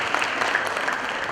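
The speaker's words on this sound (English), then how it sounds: "Give them a round of applause." Brief burst of dense audience applause at the Nicholls Athletics Hall of Fame ceremony for the inductees, a steady wash of many hands clapping at even loudness.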